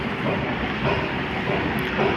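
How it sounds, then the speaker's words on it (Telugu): Steady, dense rumble of a train going by on a railway track next to a house, continuous and fairly close, with no voices. "కంటిన్యూస్ ఇట్స్ ట్రైన్స్ వస్తూ ఉంటాయి అనమాట"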